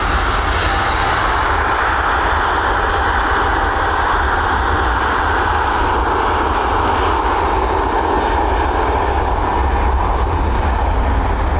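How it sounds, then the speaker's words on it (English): A Transavia airliner departs Dublin Airport, its jet engines roaring loud and steady throughout, a broad continuous rumble close by with no voices. "Here we go, we've got Transavia on departure."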